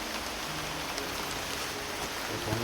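Steady rain coming down outdoors in the Philippines, a dense, even hiss filling the air at moderate loudness with no voices and no breaks.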